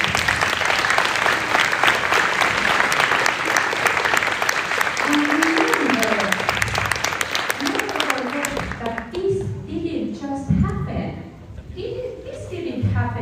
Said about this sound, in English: I think we just have to give an applause for this amazing work